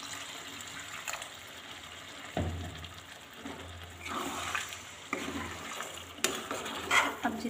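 Water poured into a pot of spicy Bihari-style chicken curry (murga masala), a splashing, gushing pour in several bursts over about seven seconds, close up with faint clinks of the pot.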